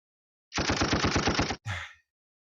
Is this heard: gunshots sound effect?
yes